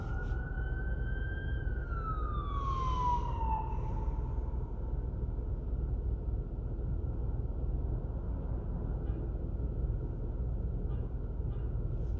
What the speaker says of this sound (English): Just be out of the way of the ambulance.